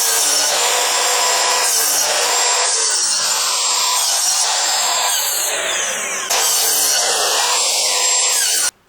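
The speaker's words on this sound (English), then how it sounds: "Let's cut to a bit of a chop saw montage and you can see kind of what I'm doing." A chop saw cuts raw wood for a guitar build, making a loud continuous roaring whine with shifting pitch that runs for nearly nine seconds and then stops abruptly.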